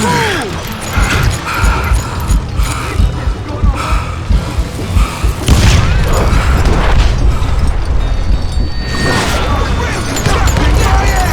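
Gunfire in the Call of Juarez Gunslinger western shooter game rings out as loud, dense bursts of shots and impacts. The shots come close together without pause, with heavy booming crashes and a thicker barrage in the second half.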